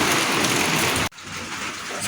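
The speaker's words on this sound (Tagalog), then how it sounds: "Grabe, umuulan pa rin. Lakas pa rin ang hangin." Heavy typhoon rain pours loudly and steadily, with gusting wind; the downpour briefly dips after about a second, then carries on as a constant dense roar.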